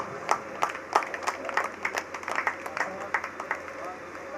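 Applause at a devotional bhajan gathering at Katesara Dham, heard as scattered, uneven bursts of clapping with distinct individual claps, mixed with voices and crowd noise throughout.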